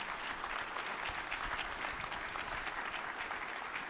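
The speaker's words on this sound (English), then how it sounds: "Let's give them a round of applause." An audience at a state legislative breakfast gives a round of applause, steady, dense clapping held at an even level throughout with no speech over it.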